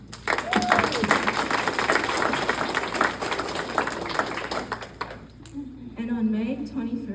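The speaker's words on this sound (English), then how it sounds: "Let's give a round of applause to Trey team." Audience applause for a scout team at an Eagle Scout speech, dense clapping that fills the first five seconds before thinning out, with a voice speaking at the end.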